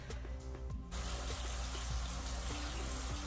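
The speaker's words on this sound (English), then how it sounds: "So I'm gonna re-damp my face." Running water from a tap gushes steadily and close by, with a few faint splashes of water being scooped onto a face, and no talking.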